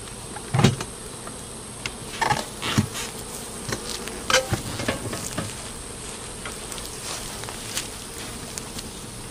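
Honey bees hum at a hive in a close, continuous buzz, with individual insects zipping past the ear in brief louder swells; no voices.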